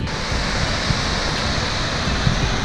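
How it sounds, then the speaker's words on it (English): Broad, steady roar of a powerful waterfall in Iceland, a dense continuous wash of falling water filling the scene at close range with no voices. "There's two waterfalls."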